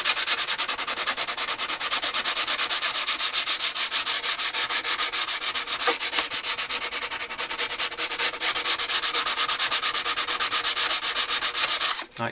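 Steady, continuous sanding of an accordion part with 180 grit sandpaper, a loud even scratchy rubbing that runs unbroken and close for the whole stretch before stopping abruptly at the end.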